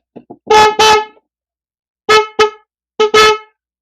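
Loud, close blasts from a vehicle wind horn being tuned come in quick pairs, a brassy buzzing honk repeated with short pauses between groups.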